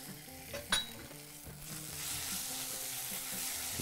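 Tomato paste is stirred into a hot pot for Bahraini biryani, a sizzling, frying hiss that builds and stays steady after a few sharp metallic clinks of the utensil against the pot, close and moderately quiet with no talk.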